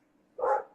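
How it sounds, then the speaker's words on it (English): A single short dog bark or yelp, close and fairly loud, rising out of a near-silent indoor background and fading within half a second. "So sorry about my dog."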